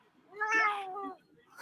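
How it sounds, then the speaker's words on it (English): A house cat meows indoors, a single drawn-out, harmonic cry lasting about a second, fairly close and clear against a quiet room. "my cat just invades my room"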